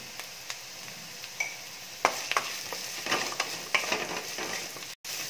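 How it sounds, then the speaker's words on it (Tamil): Onions sauté with a little salt in a pan, a soft, steady sizzle punctuated by scattered ticks and scrapes of a spatula, growing a bit busier midway, with no talking. "கொஞ்சம் உப்பு சேர்த்து வதக்கி விட்டுடலாம்."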